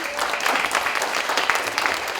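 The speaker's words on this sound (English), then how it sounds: "2 more rounds of applause" An audience at a story slam event applauds with close, lively clapping, many individual claps standing out in a steady burst with no voices over it.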